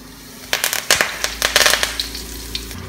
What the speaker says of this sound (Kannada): ಎಣ್ಣೆ ಕಾದ್ಮೇಲೆ ಜೀರಿಗೆ ಕರಿಬೇವಿನ ಎಲೆನ ಮುರಿದ್ಬಿಟ್ಟು ಹಾಕಿ